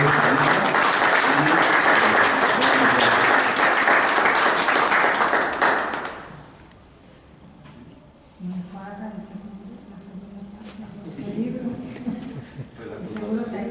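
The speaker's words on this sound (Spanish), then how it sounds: "Palabras del autor, a quien le damos un fuerte aplauso" Audience applause at a book presentation of stories about Cerro de San Pedro, a dense sustained clapping for about six seconds that then stops abruptly, followed by quieter murmuring and voices in the room.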